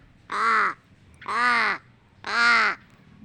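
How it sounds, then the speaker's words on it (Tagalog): Crow giving three loud, harsh caws at an even pace, each about half a second long with short gaps between, close by and clear against a quiet background. "uwak nga ambisyoso"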